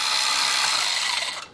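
A ratchet loosening the muffler heat shield on a Harley-Davidson motorcycle, one quick continuous clicking whir lasting about a second and a half, close and fairly loud, then fading out.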